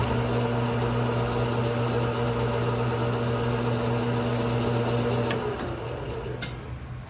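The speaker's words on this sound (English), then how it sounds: "Yeah, you don't want to be threading that fast." A BL330E metal lathe running steadily while threading, giving a constant mechanical hum with a faint ticking texture, then easing off near the end with a couple of sharp clicks.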